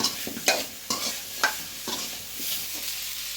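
Grated coconut sizzles as it fries in a pan with several sharp scrapes and taps of a spatula stirring it, close and fairly quiet.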